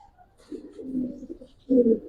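Pigeons cooing at a loft of Giribaz and coloring pigeons, a soft low burbling coo that swells and fades, with a louder, closer burst near the end and no talking.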